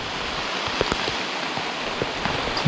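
Rain falling steadily in an outdoor setting, a dense even hiss with scattered heavier drops pattering close by.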